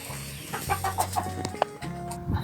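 Farmyard chickens cluck softly and close by while moving among sheep, with short repeated clucks and a few sharper rooster-like calls and no talk.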